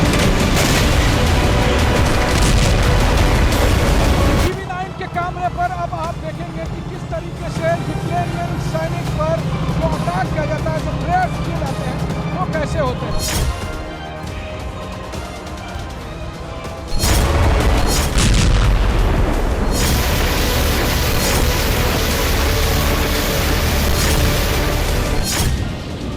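Heavy booming artillery and rocket fire on the Donbas front, with loud, dense blasts and rumbling at the start and again near the end, and quieter stretches between.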